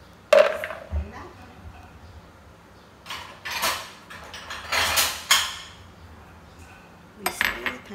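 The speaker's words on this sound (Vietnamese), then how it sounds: "Mình sẽ thái lát phần tỏi này, hoặc là mọi người cũng có thể băm ra cũng được" Knife slicing garlic on a cutting board while preparing salted eggplant, a few sharp clicks and taps of the blade hitting the board, close up, in scattered bursts.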